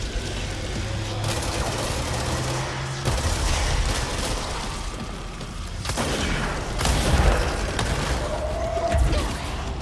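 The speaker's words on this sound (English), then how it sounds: "Shooting to my left." Gunfire in the video game Control, repeated loud blasts and bursts in clusters with booming impacts and crashing debris, dense and close throughout.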